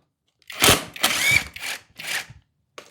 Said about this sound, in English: Just kind of taking bolts out